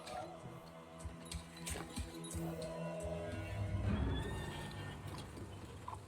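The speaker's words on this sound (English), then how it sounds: "I beheld a black horse, and he that sat on him had a pair of scales in his hand" A horse whinnies repeatedly in a Total War: Attila cinematic, loud and close, with hoof clip-clops and metallic clinks under a dense, swelling orchestral-style backdrop.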